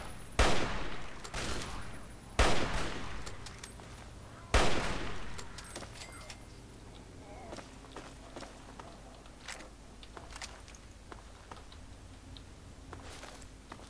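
Gunfire and bullet impacts in the modded post-apocalyptic game Fallout 3, set in a metro: three sharp, loud shots spaced about two seconds apart, followed by a patter of fainter cracks and ticks.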